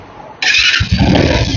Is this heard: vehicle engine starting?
yes